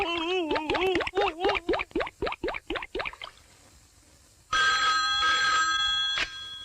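A rapid series of bouncy, descending electronic tones rings out, then after a pause a bright sustained trill, like a telephone ringtone.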